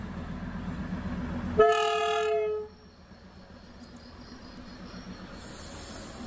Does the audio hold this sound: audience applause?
no